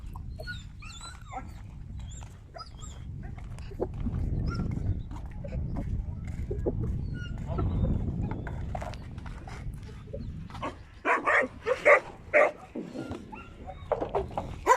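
Hungry Dogo Argentino dogs bark in short bursts with occasional whimpers at feeding time, several animals close by, the barking growing louder and more clustered toward the end.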